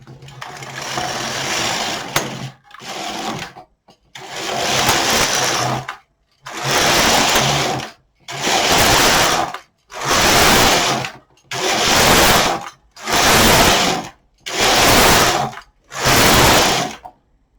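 A domestic knitting machine carriage sweeps back and forth knitting rows, giving about nine loud, even whooshing passes of a second or so each, separated by brief quiet gaps.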